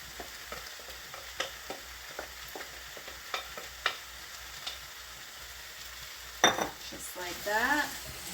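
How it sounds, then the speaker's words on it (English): Tomatoes, garlic and zucchini stirred in a pan for ratatouille pasta, soft sizzling under light scraping and clinking of a utensil, with a louder clatter near the end. "Give it a stir."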